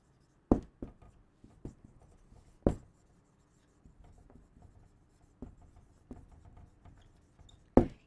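Chalk or marker writing on a board during a biology lesson, heard as sparse, quiet taps and short strokes at uneven intervals, with long near-silent gaps and no talking.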